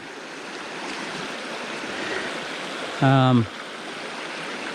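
Creek water flowing steadily at a motorcycle creek crossing, a constant rushing wash heard close, with a brief spoken voice cutting across it partway through.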